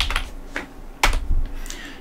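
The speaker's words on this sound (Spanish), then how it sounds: "escribimos el nombre de la cuenta de usuario" A user account name is typed on a computer keyboard during an Arch Linux install, a few separate close key clacks spaced irregularly with short pauses between them.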